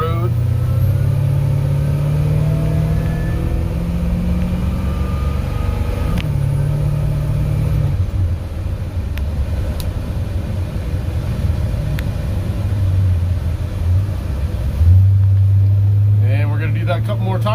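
A car works through a brake test on an open road, its engine rising and falling as it accelerates and then decelerates hard, loud and near throughout, with someone talking over it.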